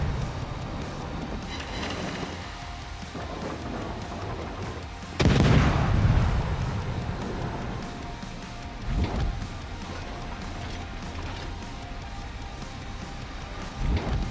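Naval guns of the destroyer Shimakaze in World of Warships open fire: one heavy booming salvo rolls out midway over a constant sea and engine rumble, with a second fainter boom later and distant thuds near the end.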